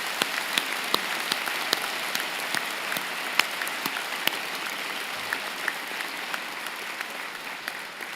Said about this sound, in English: join me in the platform party in thanking them with a vigorous round of applause